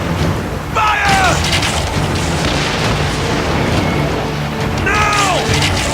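Cannon fire on a ship in Assassin's Creed Origins, heavy booming blasts rolling under constant battle din, with shouting voices and sweeping whistling tones rising over the noise twice.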